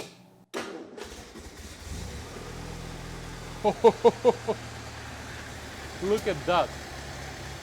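A 1964 Triumph TR4 engine cranks with a quick burst of starter turns, then catches and runs at a steady idle with a few blips. A person talks briefly over it.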